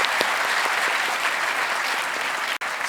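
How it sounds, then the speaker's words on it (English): Audience applause at a kirtan, a dense, steady wash of clapping from a crowd that carries on throughout. "So first claps for all of you."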